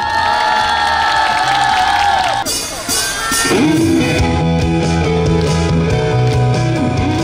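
A large crowd of young people and students cheers, whoops and shouts at a commemorative youth rally, loud and sustained, with a swell of voices and some clapping mixed in.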